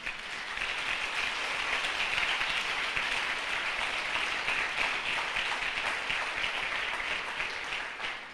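A church congregation in Recife applauds during a sermon, a dense, sustained wash of many hands clapping that holds steady for several seconds without speech.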